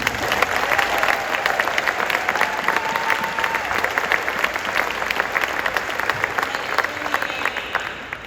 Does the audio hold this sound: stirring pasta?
no